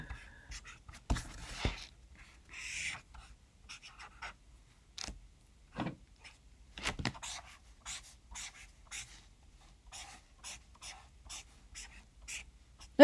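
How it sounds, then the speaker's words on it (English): A pen scratches across paper in short strokes and taps, sketching a keyboard diagram; the marks come in quick irregular bursts, close and quiet. "So let me draw a keyboard then."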